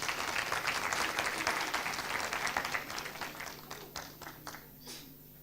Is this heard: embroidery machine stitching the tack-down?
no